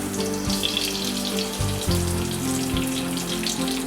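Mustard seeds crackle and splutter in hot oil in a pan for a Kerala-style kadala curry, a steady sizzle with scattered pops and no talking.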